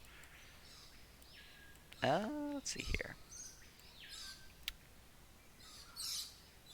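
A small bird in a fantasy game lets out a brief, bright happy chirp amid quiet surroundings, with a voice speaking softly nearby and a few fainter tweets following.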